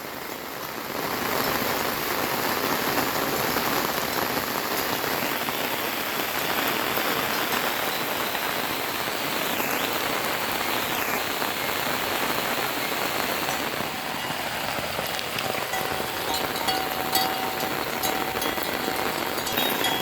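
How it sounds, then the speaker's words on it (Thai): Steady rain falls outdoors in a rural spot where cattle are being herded, a close, even hiss of drops on surfaces continuing without a break and joined briefly by a faint distant engine. "ฝนก็ตก"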